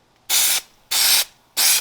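Contact adhesive hisses from an aerosol can in three steady, loud, close bursts, each about a third of a second long with short silent gaps between them, used on a gasket strip for a DIY glass 3D printer.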